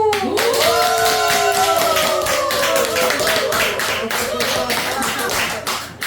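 Applause from a Buddhist dharma talk audience as the talk closes, steady dense clapping throughout, with a voice intoning a long drawn-out sound over it.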